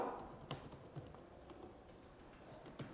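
Someone types a name on a computer keyboard, producing a few distinct, quiet key clicks spaced unevenly over a faint room hush with no talking.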